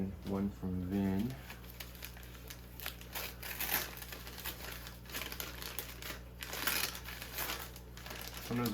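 A bag holding live shrimp is opened and handled, giving close crinkling and rustling of plastic or paper packaging that runs continuously. A voice is briefly heard at the start.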